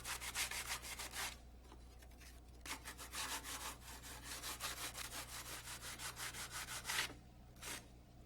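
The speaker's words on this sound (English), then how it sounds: "Fit the fiberglass winglet halves by trimming and sanding." Rhythmic back-and-forth sanding strokes rasp against a fiberglass winglet, steady and close, with brief pauses between passes.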